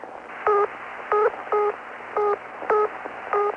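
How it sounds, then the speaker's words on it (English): Luxembourg telephone busy signal heard down a phone line, short tone pulses repeating in quick, slightly uneven succession over faint line hiss. "When the number is busy, you will hear this tone."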